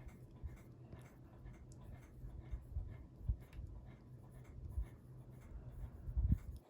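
A colored pencil scratches curly loops onto paper, making soft, close, irregular strokes that rise and fall in quick rhythmic bursts against a quiet room.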